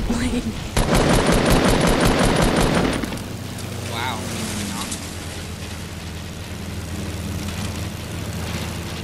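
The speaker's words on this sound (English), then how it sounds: "There's a plane" A plane flies overhead in Fortnite, a low steady engine drone that continues after a few seconds of rapid machine-gun fire at the start.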